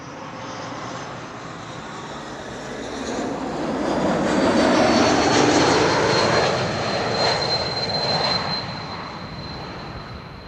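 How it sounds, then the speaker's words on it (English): An Embraer E2 geared turbofan jet roars steadily as it lands at Amsterdam Schiphol Airport, with a thin high whistle riding over the engine noise, which swells in the middle then eases. "the geared turbofan whistle that you also hear on E2 Embraers"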